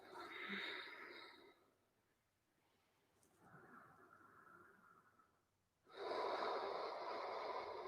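Deep breaths during an autumn yoga session: a slow inhale, a quiet pause, a softer breath, then a long, strong exhale, all close and with no talking.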